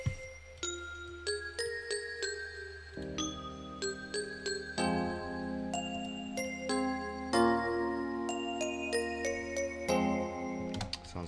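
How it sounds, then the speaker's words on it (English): Bright, ringing synth notes treated with chorus, reverb and ping pong delay in a West Coast SoCal beat, playing a tinkling melody with echoing repeats over a deep, steady bass line, quiet overall. "I want that kind of ringing sound you hear that the chorus and the delay gives it"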